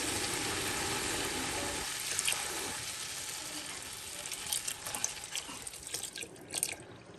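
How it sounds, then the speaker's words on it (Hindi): Milk pours in a steady, soft liquid stream into a large pot of grated carrots for gajar ka halwa, about 4 kg of milk over 2 kg of carrots, with faint splashing toward the end. "अब बिस्मिल्लाह करके इसमें मिल्क ऐड करते हैं"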